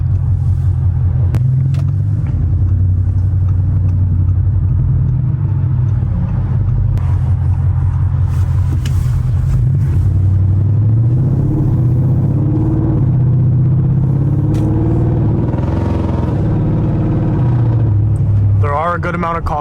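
A straight-piped Audi RS7 making 800hp drones loudly and steadily from inside the cabin while driving, a deep continuous exhaust rumble that swells now and then as the engine pulls.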